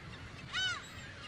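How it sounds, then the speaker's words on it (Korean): A single short, harsh cry from a black-tailed gull chick begging for food, moderately close and rising briefly above a quiet background. "새끼들은 서로 먹이를 먼저 달라고 아우성이다"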